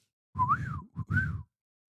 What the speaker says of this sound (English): they communicate long distance through whistling